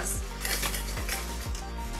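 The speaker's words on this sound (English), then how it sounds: "This whisk sucks!" A whisk beats a mixture for éclairs in a bowl with rapid, close clinks and scrapes against the sides, steady and moderately quiet throughout.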